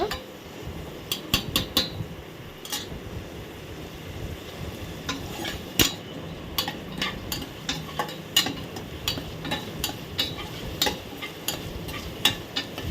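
Mutton sautéing in oil gives a continuous sizzle for about thirteen seconds, joined by frequent sharp clicks and scrapes from a utensil stirring in the pan, close and fairly quiet, with no voices.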